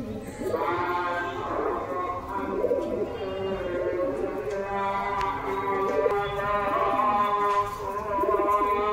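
Pigeons settle into their loft at dusk, cooing and bleating in repeated throaty calls from several birds nearby, with a voice talking and calling out among them.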